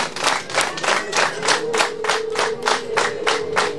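A crowd of guests claps hands at a Rwandan wedding ceremony, about a dozen quick, even bursts of applause in a steady rhythm, loud and close, no talking.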